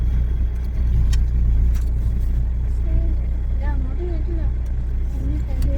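A car engine idles steadily as the vehicle is parked near Malankara Dam, a continuous low rumble running through the whole stretch while people talk over it.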